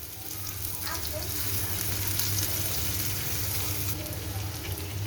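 About two chopped onions fry in hot oil in a pan, giving a steady, close sizzle that swells slightly and holds at an even level, with faint scraping of stirring in the mix.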